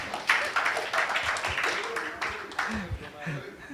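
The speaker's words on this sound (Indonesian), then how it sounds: "Amin, beri tepuk tangan dong." An audience at a city talk event in Surabaya breaks into scattered clapping, with voices and cheers mixed into the noisy applause.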